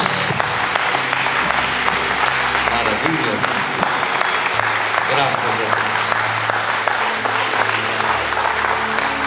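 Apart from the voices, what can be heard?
church congregation applauding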